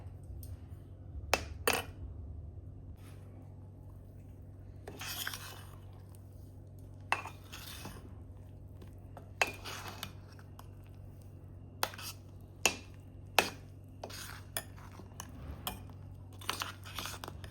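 Tomato masala being mixed with a spoon in a pan, scattered sharp scrapes and clinks against the metal at irregular intervals over a low steady background hum.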